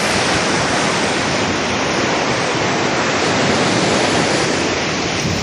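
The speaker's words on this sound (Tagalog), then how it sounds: "ang laki ng alon" Heavy, continuous roar of large ocean waves crashing at Tali Beach, Nasugbu, Batangas, loud and close with no pauses.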